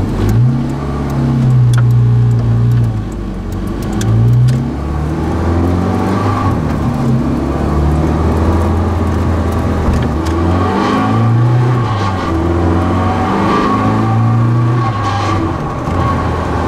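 A loud New Stratos sports car engine revs and accelerates up through its six-speed gearbox, pitch climbing and dropping with each shift, close and continuous.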